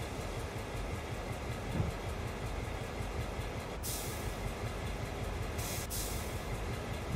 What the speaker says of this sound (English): Release the brakes, and we can start throttling up just gently.